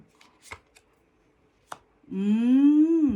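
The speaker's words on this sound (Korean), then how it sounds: "이거 보조적인 카드를 하나 더 뽑아볼게요" Tarot cards are shuffled and drawn, giving a few sharp, crisp flicks and snaps against near silence. A sustained tone with a rising pitch follows at the end.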